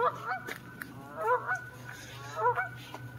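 Several geese honk in short bursts across open water on Liberty Reservoir, a few calls clustered together then a pause before another round, moderately distant over a steady low hum.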